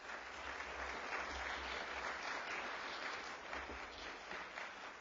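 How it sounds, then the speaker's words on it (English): Audience at a Latino Book Awards ceremony applauding in a steady, even wash of clapping that lasts throughout, heard from a distance and without voices over it. "So let's give them all a round of applause"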